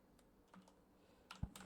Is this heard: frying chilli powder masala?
no